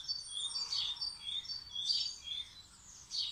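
Small birds chirping outdoors in the morning, a lively run of high repeated tweets from several birds throughout, fairly faint and distant with no voice over them.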